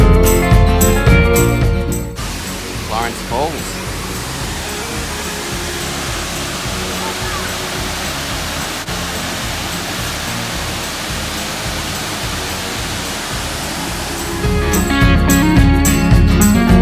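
Waterfall at Litchfield National Park, a broad steady rushing roar of falling water, continuous and fairly loud, with music fading in briefly at the start and end.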